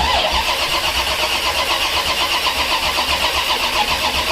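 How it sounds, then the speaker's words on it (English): A hot rod car engine cranks and fires up, then runs steady and loud at a fast idle throughout, with an even, close rumble and no talking. "Ignition on."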